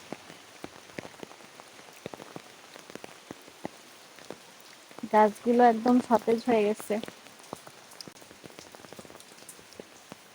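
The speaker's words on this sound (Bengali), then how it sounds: "ছাতা মাথায় দিয়ে হাঁটতে ভালোই লাগে বৃষ্টির মধ্যে" Steady rain patters on surfaces throughout, with scattered drips, while a person speaks briefly in the middle.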